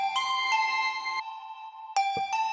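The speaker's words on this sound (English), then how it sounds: "I love the fact that we have these crystally sounds like this one." Bright, glassy synth tones in FL Studio Mobile ring out in sustained chiming chords, cut off briefly, then strike again with a sparkling, bell-like shimmer.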